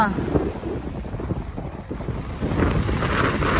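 Strong waves churning on Manila Bay during stormy weather, a steady rough wash of water with heavy wind buffeting the microphone, growing slightly louder toward the end.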